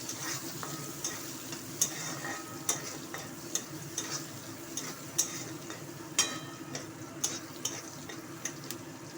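Vegetable stalks fry in a pan while being stirred, a soft continuous sizzle punctuated by regular scraping taps of the spatula against the pan, fairly quiet and close.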